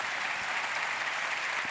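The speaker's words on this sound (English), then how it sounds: "Wow, it deserves a big applaud" Audience applause at an aircraft reveal event, honoring a six-time repeat buyer of TBM airplanes; a brief, steady wash of many hands clapping, moderately distant and even in level.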